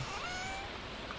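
A cat meows in the Stardew Valley video game, giving a soft drawn-out call over steady game background sound.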